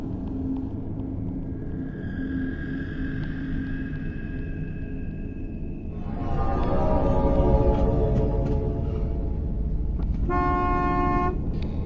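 A car horn honks near the end, a short series of loud toots rising over the idling engine rumble and low road noise, while a stopped car sits with its lights on at night.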